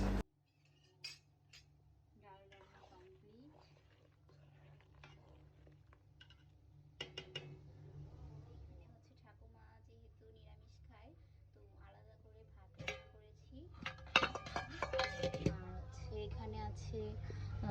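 Pots and utensils clink in a home kitchen while fish is being cooked, scattered metallic taps and knocks over a steady low hum, busier toward the end, with someone talking throughout.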